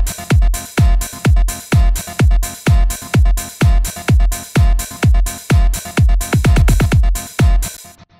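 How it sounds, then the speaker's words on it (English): An acoustic guitar strumming the same chord, chopped into a tight rhythmic groove by a trance gate, pulses steadily and loudly alongside drums, with quicker stuttering hits near the end. "I just chopped it into this groove and put a trance gate on it to create some movement"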